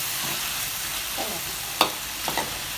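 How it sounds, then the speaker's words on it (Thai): Prawns with stink beans stir-fried hard in a wok with seasoning sauce, a soft continuous sizzle under a few sharp scraping clatters of the spatula, close by. "ผัดไปแรงๆ"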